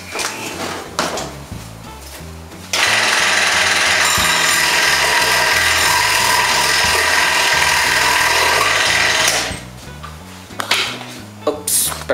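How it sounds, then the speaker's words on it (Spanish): A power tool cuts through a small part for a scale model truck's fifth wheel, running in one steady, loud buzzing stretch for several seconds, bracketed by shorter scraping and handling sounds before and after. "Listo, voy a cortar."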